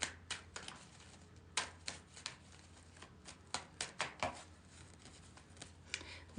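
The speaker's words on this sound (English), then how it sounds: "Think about a question that you have from the universe as I shuffle the cards." Tarot cards being shuffled in quick irregular bursts of crisp riffling and slapping, close and fairly quiet, with no voices over them.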